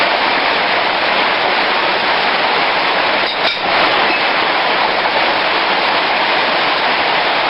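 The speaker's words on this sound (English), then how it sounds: "So we're all playing in the rain like little kids today" Heavy rain pours down hard outdoors, a loud, dense and unbroken hiss that holds steady from start to finish with no voices.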